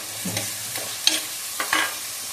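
Sautéing in a pan with a green chilli, stirred in short bursts: a few scraping strokes and sizzling pops spaced across a quiet, steady background, close by with no talk.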